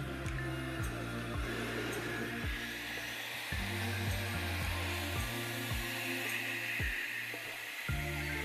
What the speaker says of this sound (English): blow dryer, I guess